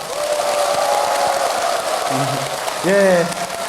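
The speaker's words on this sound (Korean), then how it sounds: "끊임없는 박수에 제가 너무나 감격이 벅차오르네요" Continuous applause from an audience at a Buddhist temple lecture hall, a steady dense clatter of clapping throughout, with a speaker's voice cutting in briefly near the end.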